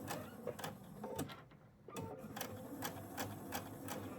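A sewing machine runs slowly in short, separate bursts of stitching with brief pauses between them for pivoting, fairly close and moderate in level, with no talk.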